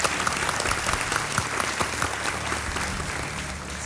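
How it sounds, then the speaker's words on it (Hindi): A studio audience on a quiz show breaks into applause, a dense, even patter of many hands clapping close and steady for a few seconds. "तालियों के साथ आपका हम स्वागत करते हैं"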